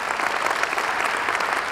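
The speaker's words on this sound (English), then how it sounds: "Come on, let's all clap our hands right now" A church congregation claps together during a healing service, steady dense applause filling the room at an even level with no speech over it.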